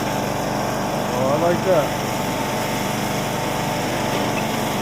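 A John Deere LA105 lawn tractor engine runs at full speed in third gear, a steady loud drone throughout with a brief spoken remark partway through.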